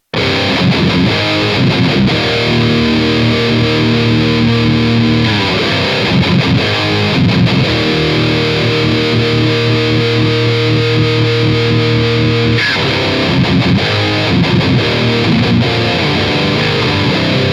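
Heavily distorted electric guitar through ML Sound Lab's Amped Burger amp plugin chugs loud palm-muted riffs and sustained power chords, a dense, aggressive metal tone throughout.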